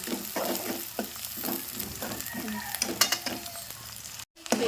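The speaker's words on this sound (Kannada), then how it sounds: "ಈಗ ಉಳ್ಳಾಗಡ್ಡಿ ಒಂದು ಸ್ವಲ್ಪ ಫ್ರೈ ಆಗುತ್ತೆ" Sliced onions frying in hot oil in a home kitchen, a continuous sizzle broken by repeated scraping stir strokes close by, with a brief dropout near the end.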